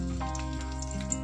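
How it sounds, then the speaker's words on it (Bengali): Black mustard seeds and two dried chillies frying in hot mustard oil over low flame, a soft continuous sizzle with faint crackles, close and steady throughout with no voices. "এবার এর মধ্যে দিয়ে দিচ্ছি 1 টিস্পুন কালো সর্ষে আর দিচ্ছি 2টো শুকনো লঙ্কা।"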